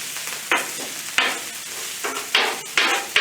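Day-old rice frying for fried rice, loud sizzling bursts as the rice is tossed and stirred in the hot pan, with several surges of crackle separated by quieter gaps.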